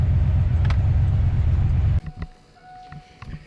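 Turbocharged Foxbody Mustang engine on the gas against the boost cut, a loud, rough, stuttering low drone for about two seconds that abruptly drops away to faint idle and clicks.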